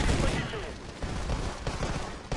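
Rifle fire in a shooter video game, a quick series of punchy shots over steady background noise, with someone talking over it.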